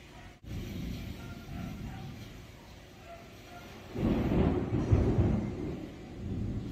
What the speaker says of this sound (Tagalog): Nakakatakot yung mga kulog.